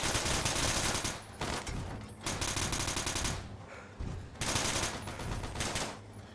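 Heavy automatic gunfire from a power-armored character's weapon in Fallout 3 and New Vegas, loud sustained bursts of rapid shots separated by short pauses, with no voices.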